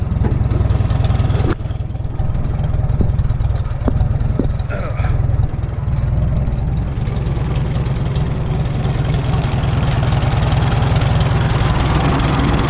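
A 1941 Farmall H tractor engine idles close by with a loud, steady, low chugging rumble that runs throughout, with a few brief clunks over it.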